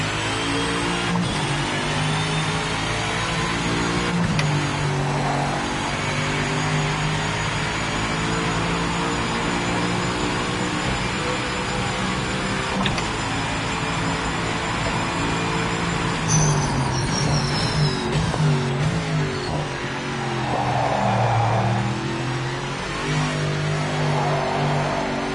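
Race car engines in the Project Motor Racing video game, a steady sustained drone of engine tone with shifting pitch throughout, loud and continuous with no talk over it.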